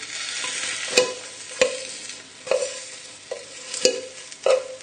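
Cooked potatoes get crushed against the side of a pan with the back of a fork, a series of about six sharp metallic taps and scrapes spaced roughly a second apart over a faint sizzle.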